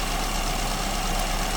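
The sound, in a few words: engine idling with SU carburetor, idle speed fluctuating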